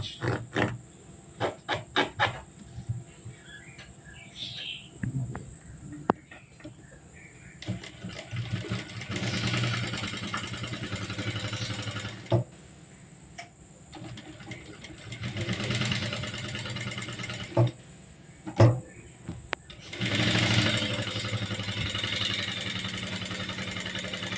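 A sewing machine stitching a blouse sleeve runs in several whirring bursts separated by pauses and scattered clicks, moderately close with no talk.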